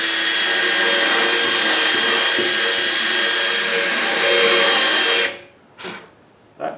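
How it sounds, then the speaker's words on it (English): A carbide burr on a power tool grinds out the worn pin holes of a Rhino 85 backhoe bucket, a loud continuous high whine that runs steadily for about five seconds and then cuts off, followed by two faint brief bursts. "we'll take this carbide burr and clean the edges of these up until the pins slide through there nice and smoothly"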